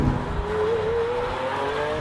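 A 2015 Lamborghini Aventador Roadster LP700 holds a loud, steady engine roar whose pitch climbs gradually, with no voices over it.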